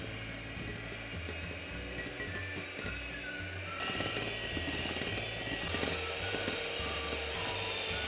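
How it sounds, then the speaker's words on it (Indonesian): An electric hand mixer whirs steadily while whipping cake batter mixed with Sprite or soda water, with faint clinks of the beaters against the bowl and a slight rise in intensity halfway through. No one speaks. "Sekarang kita mixer sampai mengembang, sampai kental dan berjejak."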